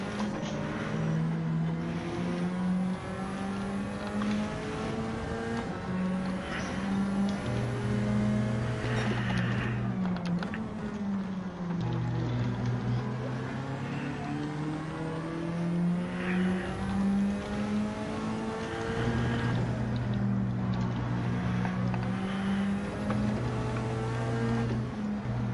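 A Ferrari race car engine in Gran Turismo 7 on the Nürburgring, a steady loud whine rising and dropping through gear changes, with a second car's tone layered underneath, continuous throughout.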